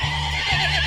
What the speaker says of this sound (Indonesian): Kuda bahasa Inggrisnya horse.